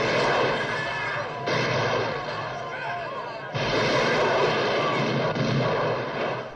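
Dense gunfire from a John Woo action film shootout: loud, continuous overlapping shots and bursts, with what may be a voice partly under the din.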